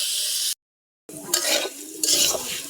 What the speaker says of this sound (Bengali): এখন তেলে উঠে ভাজে নিচ্ছি।